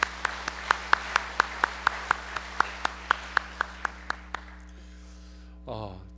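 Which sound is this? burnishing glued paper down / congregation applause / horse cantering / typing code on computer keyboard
congregation applause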